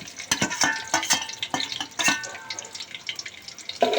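Chopped onions dropped into hot oil in a pan for Kashmiri chicken gravy, giving a crackling sizzle with sharp clatters of stirring at the start, followed by a steady fizz.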